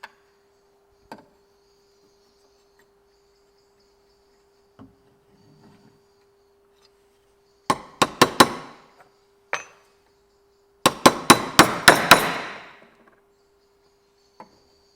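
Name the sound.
hammering a chasing tool on metal parts clamped to the bench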